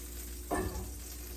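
A short sizzle bursts out as chicken liver lands in a hot pan, then settles into a soft, steady frying hiss.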